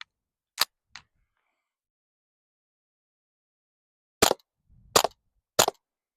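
Suppressed rifle shots using a 30 cal suppressor and CCI 970 ammunition: five sharp, short cracks, an early pair close together and then a tight series of three after a long pause, each loud and alone against silence.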